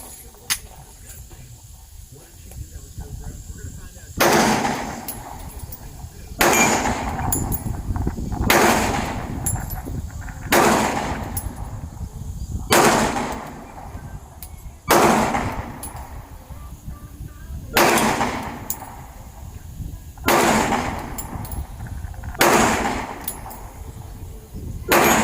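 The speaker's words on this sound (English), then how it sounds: "I'm gonna shoot those bowling pins. See if I can hit some," A Smith & Wesson M&P Shield Plus pistol fired outdoors at bowling pins: about ten loud, sharp shots spaced roughly two seconds apart, each with a short echoing tail.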